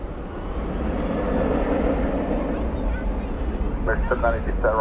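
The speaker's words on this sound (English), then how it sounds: "And we've got another UPS plane backing out." A UPS cargo plane's jet engines hum in a steady, loud drone as it backs out at Dallas Fort Worth airport at night, with radio chatter breaking in near the end.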